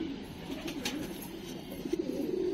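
Pigeons, including a white male, coo in a low continuous murmur close by, steady throughout with light rustling and no talk.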